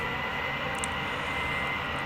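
A simulated aircraft engine starts up in a flight simulator game at KLSX airport, making a steady, even broadband roar that holds at a constant level throughout with no voices.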